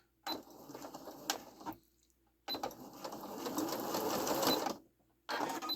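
A Singer Quantum Stylist 9960 sewing machine runs in two close bursts of rapid stitching with a short pause between and a brief start at the end, buzzing and clattering loudly with no talking.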